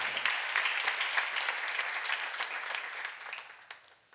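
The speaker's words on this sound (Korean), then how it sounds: "박수 하세요" A church congregation at a seminar claps together in a sustained round of applause that gradually fades toward the end, with no speech over it.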